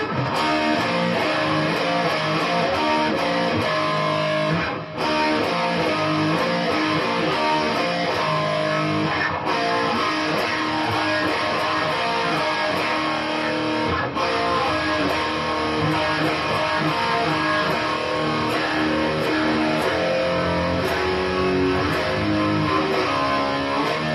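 Distorted electric guitar playing the chord part of a 1978 song, a dense sustained rhythm that runs loud and continuous with a few short breaks between phrases, no voices over it.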